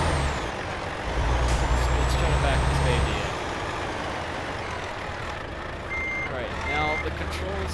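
Truck in the Euro Truck Simulator 2 video game reversing: a steady rumbling diesel engine with a hiss of air brakes and repeated high electronic backup beeps near the end, loud and close.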